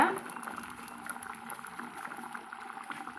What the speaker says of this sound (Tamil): இது இப்போ குழம்பு நம்மளுக்கு நல்லா கொதித்து வந்துருச்சுங்க